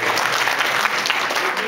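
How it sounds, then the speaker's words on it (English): Audience applause at a live show, dense continuous clapping from a crowd filling the moment loudly and evenly, with faint voices mixed in. "Round of applause."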